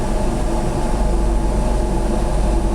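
Steady, loud rumble inside a train carrying a Tesla car on a trip from the UK toward Europe: a constant low roar that continues without a break, with no voices.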